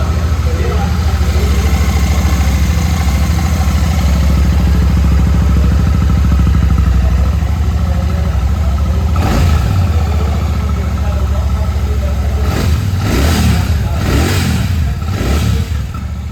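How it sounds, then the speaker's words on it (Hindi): Royal Enfield Bullet 650 (Classic 650) parallel-twin exhaust idling with a deep, steady thrum up close, then breaking into several sharp throttle blips near the end. "तीनों ही बाइक्स का सेम साउंड है क्योंकि पैरेलल ट्विन इंजन है"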